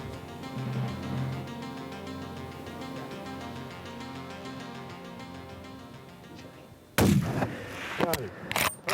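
A single loud, sharp rifle shot cracks out during a hunt, aimed at an animal about 260 yards away, after a long quiet stretch of low background tone.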